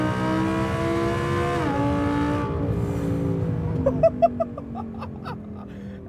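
A tuned Audi R8 V10+ launches under launch control, its engine screaming and climbing through the revs, dropping pitch at a shift and surging again before sharper pops and crackles toward the end.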